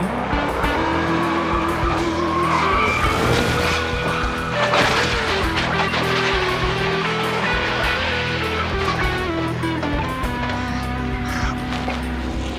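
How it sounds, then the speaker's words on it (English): A NASCAR race car at Talladega spins out in a crash, loud engine roar and screeching tires blended with other cars racing past, a dense continuous din with no talking. "At Talladega, an easy Sunday drive can turn sideways in the blink of an eye, like Neil Bonnet's ride back in 1993."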